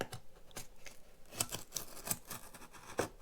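A blade cuts through strips of paper mache over a plastic skull, giving faint, close scratchy snips and crackles at an irregular pace.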